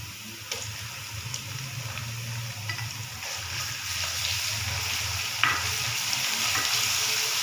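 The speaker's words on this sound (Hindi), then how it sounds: "अदरक लहसुन को मैंने भून लिया है।" Ginger garlic paste sizzling and frying in a pan with a constant crackle, occasional stirring scrapes and clinks, close up, without speech.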